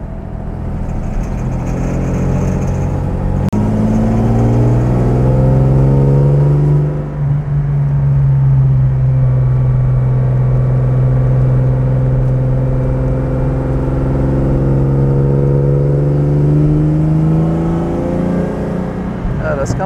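A 1966 Jaguar E-Type 3.8 Coupé, a restored classic race car, is heard from inside as its engine pulls hard through a long acceleration, the loud straining note climbing steadily after a gear change.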